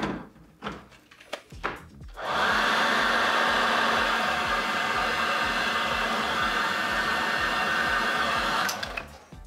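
A heat gun blows steadily for several seconds while shrinking sleeving over speaker cable, a loud even whooshing hiss that follows a few handling clicks and stops abruptly.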